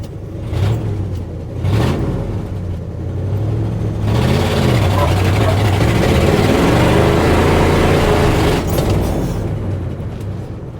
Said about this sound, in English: That was a little burnout.